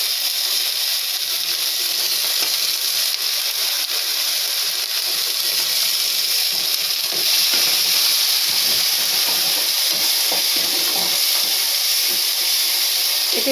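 A paste of cinnamon, cardamom, clove, onion, garlic, ginger and green and dried chillies fries in hot oil while a Bengali chitol fish curry is cooked. The loud, steady sizzling hiss is close and continuous, with a few small crackles and no talk.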